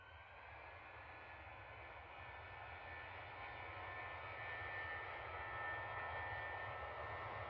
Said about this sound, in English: So this is the Qantas A321neo freighter.